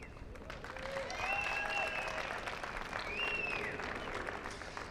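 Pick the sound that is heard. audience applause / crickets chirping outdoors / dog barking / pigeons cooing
audience applause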